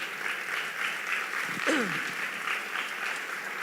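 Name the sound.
congregation applause in church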